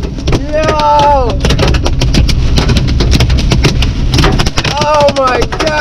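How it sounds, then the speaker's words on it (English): Big hail clatters hard and fast on a car roof and windshield during a storm chase, a dense rattling barrage, with an excited voice shouting briefly over it. "This is some big hail!"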